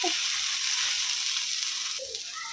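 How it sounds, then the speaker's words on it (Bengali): Bitter gourd and potatoes fry in a pan, producing a steady bright sizzle that eases slightly toward the end, with a couple of faint clinks and no talking. "এখানে উচ্ছে ভাজা হচ্ছে উচ্ছে আলু দিয়ে অল্প কটা উচ্ছে"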